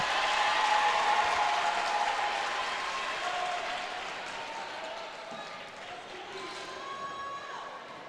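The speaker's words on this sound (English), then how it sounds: "The only disappointing part about a loud crowd is we don't get to hear Lauren's dad, Dave." A crowd at a girls' high school basketball sectional final applauds and cheers after a made free throw, a loud, steady wash of clapping and voices that slowly eases off.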